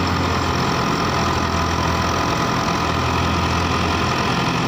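A 2019 Massey Ferguson 385 tractor idling on a farm, its diesel engine a steady, loud, close low rumble throughout with no voices.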